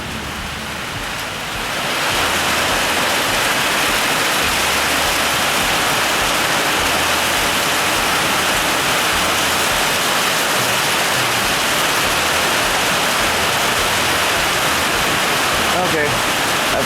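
After a quiet start, a dense, loud roar of heavy rain drumming on a shed roof sets in and continues steadily.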